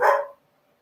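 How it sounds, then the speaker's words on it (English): A dog gives a single sharp bark close to a door, loud and clear, then the sound drops away to silence. "now they're like right by the door barking too"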